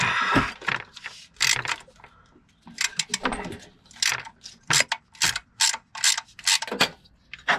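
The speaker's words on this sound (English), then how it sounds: "ratcheting wrench and a little elbow grease, and it's a lot easier." A ratcheting wrench turns bolts on a Honda Element during a motor mount job. Rapid, close clicking ratchet bursts repeat in short, rhythmic strokes with brief pauses between them.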